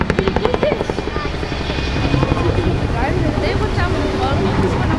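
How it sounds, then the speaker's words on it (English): A Chinook twin-rotor helicopter flies a bow display at a seaside airshow. Its loud, deep rotor thudding pulses throughout while a commentator talks over it. "we have got a Chinook doing the bow that we're used to seeing from the Harrier"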